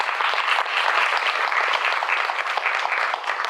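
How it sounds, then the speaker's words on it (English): Audience applause for a panelist at a roundtable in Atlanta's Central Library, a dense, steady patter of many hands clapping close by for several seconds. "big round of applause for her"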